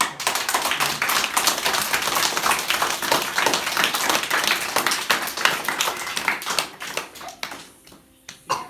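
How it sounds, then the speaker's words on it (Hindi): Group of schoolchildren in a government school classroom clapping together, a dense steady patter of many hands for several seconds that thins out and fades near the end. "एक बार अपने लिए सबको तालियां हो जाए"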